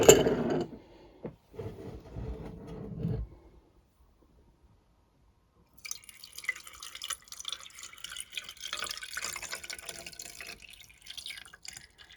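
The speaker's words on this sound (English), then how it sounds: "And then I'm just going to carefully pour it over the eggs." Pickling lime water splashes and pours briefly over eggs in a container, pauses in near silence, then a softer continuous trickle and drips follow for several seconds.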